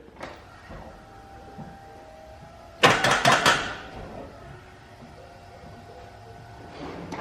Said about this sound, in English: you think we'll be able to get it to crank with just that one battery?